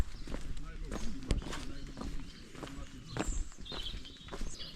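Footsteps on a steep cobbled street in a car-free fishing village, a steady walking rhythm of close, uneven scuffs and knocks on stone.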